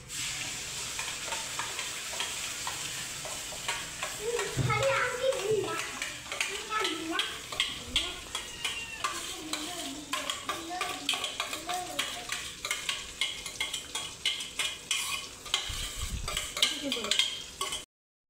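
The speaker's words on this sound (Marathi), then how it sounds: "आता त्यात मी ॲड करते ही मागाशी मी केलेलं सगळं जी प्युरी केली ना टोमॅटो कांद्याची, ते ह्यात ॲड करते" Tomato and onion puree goes into a frying pan of hot butter and oil, sizzling steadily while a spoon scrapes and stirs, with someone talking over the cooking.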